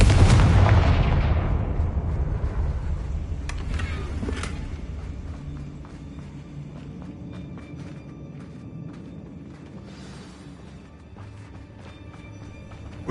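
A Confringo spell blast in Hogwarts Legacy, one big booming explosion at the start that rolls off into a long fading rumble with scattered crackles and small pops.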